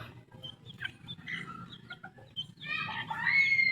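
Chickens and roosters being kept by a backyard poultry raiser cluck and call in short bursts, fairly close, with a rising squawk near the end over low farmyard background noise.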